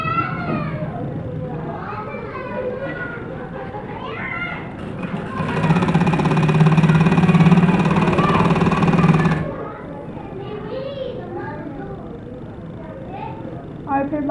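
A sewing machine stitching the frill fabric and its upper cloth to a lining for a girl's frock, a loud steady mechanical whir running for a few seconds between stretches of nearby talk.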